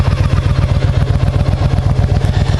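Motorcycle engine running close by on a trail bridge over a creek, a loud, steady low throbbing idle with rapid even pulses and some mechanical clatter, heard alone for under three seconds.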